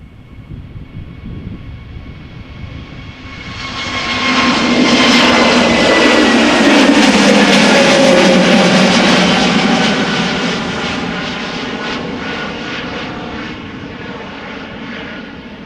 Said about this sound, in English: Next up, Vueling. Airbus A320neo going to Malaga.